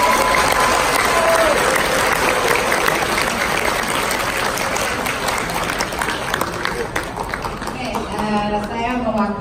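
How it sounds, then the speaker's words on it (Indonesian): Loud crowd applause at a gathering of Jakarta post coordinators, with voices and chatter mixed in and a speaker beginning to talk near the end. "Boleh diberi tepuk tangan dulu"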